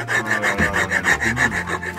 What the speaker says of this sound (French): Je nettoie un graffiti